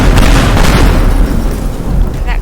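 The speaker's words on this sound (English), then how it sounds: "And that causes an explosion." Explosion set off by shooting with a hunting rifle in the video game Teardown, a loud, sustained low boom rumbling through the whole stretch with crackling debris.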